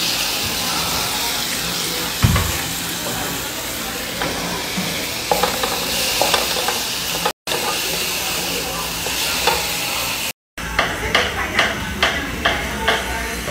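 Tomatoes hit a hot pan and set off a loud, continuous sizzle, with scraping and clattering as they are stirred and brief cuts in the sound.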